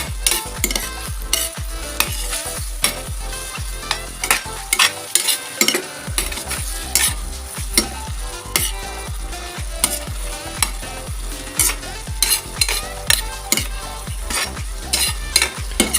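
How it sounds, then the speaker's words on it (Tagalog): Chicken binagoongan with eggplant being stirred in a sizzling pan, a utensil scraping steadily and rhythmically against the pan over a constant close frying hiss, with no voices. "haluin muna natin"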